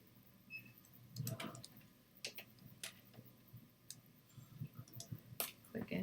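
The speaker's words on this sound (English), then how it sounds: "click into that pen again" A ballpoint pen clicked several times at close range in a quiet room during a statistics lecture, giving short sharp ticks with no talking over them.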